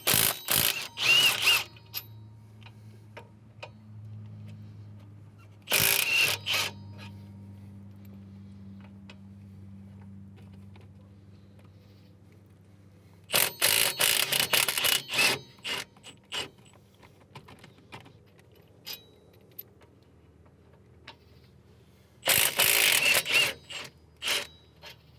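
Bolts on the wheel hub assembly of a 2015 Subaru Outback are worked loose with a ratchet, four 14 mm bolts in all, giving several loud bursts of rapid clicking separated by long quiet stretches with a low steady hum underneath.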